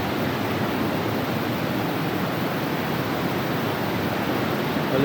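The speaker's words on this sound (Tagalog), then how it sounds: "Ito yung sa Wawa Dam guys. Ito na. Malakas ang agos." Strong river current at Wawa Dam, a loud, steady, broadband rush of fast-flowing water that stays constant throughout, with no voices over it.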